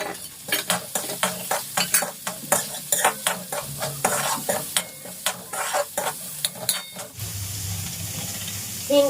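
Finely chopped onion frying in hot oil and being stirred, a close sizzle broken by rhythmic scraping strokes of the spoon, then settling into a steadier, softer hiss near the end.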